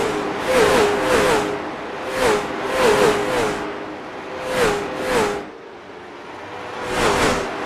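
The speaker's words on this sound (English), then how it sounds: "let's hear the engines going around Myrtle Beach" Late model race car engines circle Myrtle Beach Speedway, each car's whine swelling and fading in repeated passes several times over, moderately loud with no talking.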